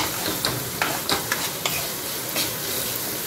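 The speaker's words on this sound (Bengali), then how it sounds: "পেঁয়াজটা খুব বেশিক্ষণ ভাজতে হবে না" Onion frying in a pan for a yardlong bean (borboti) mash, with a soft sizzle under a series of short scraping stirs of the spatula, close and fairly quiet, with no talking.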